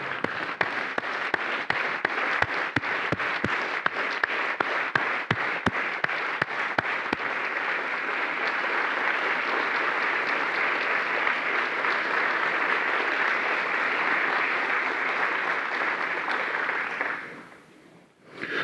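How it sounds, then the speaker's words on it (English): A lecture hall audience stands and claps for an inaugural lecture introduction, starting with a few sharp separate claps that swell into sustained, loud applause, then fading abruptly near the end. "giving her a round of applause,"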